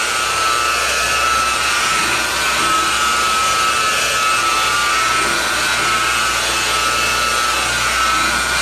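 A power buffer working over the paint on a 1989 Chevy truck during a cut and buff, a loud, dense, unbroken whirring hiss with a low motor drone that holds steady throughout.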